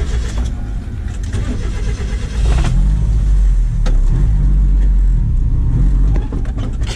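A race car's engine, lacking an idle air controller, rumbles steadily at idle close by, its low drone swelling slightly partway through as the throttle is nudged to keep it running.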